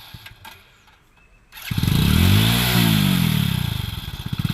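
A motorcycle engine catches after a quiet stretch with faint clatter, then rumbles loudly and steadily up close, its idle pulsing as it revs slightly toward the end.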